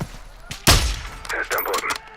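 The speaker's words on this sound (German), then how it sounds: "das Kartell feuert blind auf uns" Gunfire in the video game Call of Duty MWII: one loud, close blast followed by a burst of rapid shots with some faint background noise.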